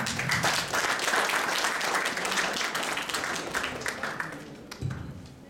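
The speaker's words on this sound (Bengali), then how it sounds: "আরেকবার হাততালি হয়ে যাক ওনার জন্য" Applause from an audience at a Durga Puja cultural program, honoring a poem reciter; dense, steady clapping that holds throughout, then tapers slightly near the end with a brief louder burst.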